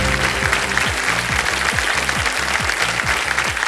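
A studio audience on a quiz show claps steadily in a dense, even burst of applause, with many hands sounding together at close range for several seconds.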